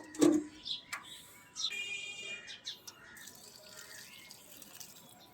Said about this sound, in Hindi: देखिए अभी भी जब मैं पानी डाल रहा हूँ ना